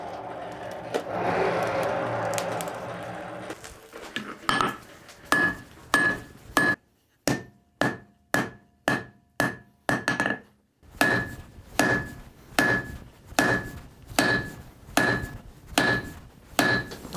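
Steel and old iron billet drawn out under a hammer at a forge for a folding-knife blade: a steady series of sharp, ringing blows in an even rhythm, close and loud, with a short pause midway and no talk.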